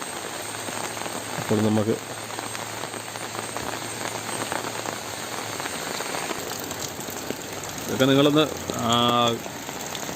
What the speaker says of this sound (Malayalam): ഇപ്പോൾ നല്ല മഴ പെയ്തുകൊണ്ടിരിക്കുകയാണ്